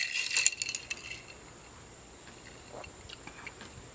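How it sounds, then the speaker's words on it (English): A spoon stirs a keto mai tai in a glass, giving a brief cluster of bright clinks against the glass at the start, then a faint rattle that fades into near silence. "And then we give a little stir."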